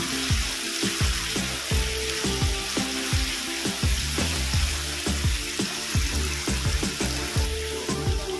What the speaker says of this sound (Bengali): এর মধ্যে দেবো আদা রসুনের পেস্ট। এটা ভালো করে কষিয়ে নেব।